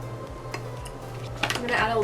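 Sesame oil going into a home-cooked dish, with clinking bottle, pan and utensil sounds close by, a few sharp clatters and a louder scrape toward the end.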